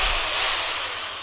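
Corded drill held against an electric guitar, giving a brief, bright high-pitched whine that starts loud and fades slightly over about a second, with no talking.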